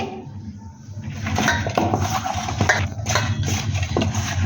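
Potato pieces being mixed by hand with turmeric powder and salt in a bowl, giving soft, irregular clinks and scrapes against the dish that run continuously at moderate volume with no talk.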